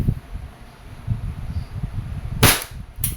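A DB 1911 MEU airsoft pistol fires two sharp, loud shots close together near the end, after a quiet stretch of low outdoor rustling.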